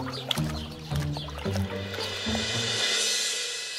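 A small wooden rowboat glides across water in a cartoon, with rhythmic hollow creaks and paddle sloshes at a steady pace, followed by a soft trickling splash.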